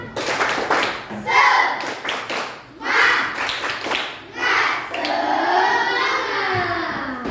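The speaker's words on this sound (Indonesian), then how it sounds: "Tepuk semangat" Children in an Indonesian primary classroom perform a rhythmic clap-and-chant routine, sharp clustered hand claps alternating with shouted group syllables in repeated bursts, followed by a longer stretch of voices calling out together.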